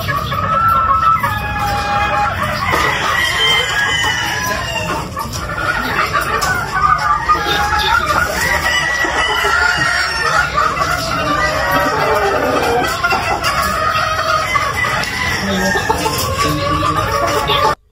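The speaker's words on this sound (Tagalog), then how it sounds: "nalaman nyo na rin yung mga presyo ng manok dito sa Top Gun Farm ni Sir Marvin Coleto." Chickens clucking and roosters crowing at a gamefowl farm, a dense, continuous flock chorus with overlapping calls close by, loud throughout and no speech.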